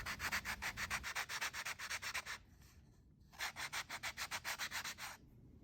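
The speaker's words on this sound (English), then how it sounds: "I'm just going to grab some sandpaper and then smooth out these rough edges." Sandpaper rubbed back and forth over the rough edges of a small, thin piece of wood for a dollhouse table, making two bursts of quick, even rasping strokes separated by a short pause, close and alone.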